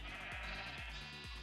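Minecraft sheep bleat in three short, wavering cries spaced across the moment, sitting over a steady background hum with no talk.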